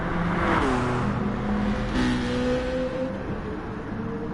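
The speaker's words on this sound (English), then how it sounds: "As we have Armored Core coming into the pits here" A race car engine in a sim racing video game at Monza, during an endurance series race with the car heading into the pits, holds a steady, loud drone with sliding tonal pitch changes and no talk.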